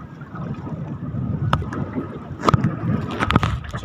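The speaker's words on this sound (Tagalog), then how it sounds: "So yun, malakas yung hangin." Strong wind blows across a small fishing boat at sea, a loud rushing gusty roar with water sloshing and splashing against the hull and brief knocks, rising and falling in uneven surges.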